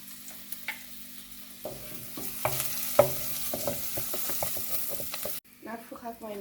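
A spiced flour mixture fries and is stirred in a pan, giving a steady sizzle broken by repeated scraping and stirring knocks, close and fairly loud, ending with a sharp change of sound near the end.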